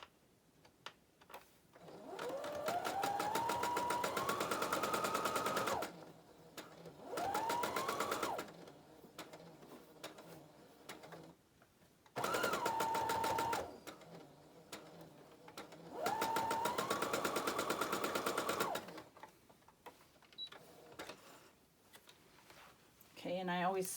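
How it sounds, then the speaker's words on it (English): A sewing machine stitches a quarter-inch seam on a quilt block in four bursts of steady whirring, each rising in pitch as it speeds up, with quiet pauses and a brief voice at the end. "So we'll sew a 1/4 inch seam here."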